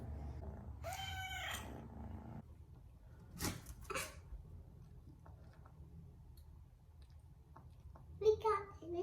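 Rosie, a 12-week-old adopted kitten girl, gives a couple of short meows with soft purring between them, close by, while a voice chatters briefly in the room.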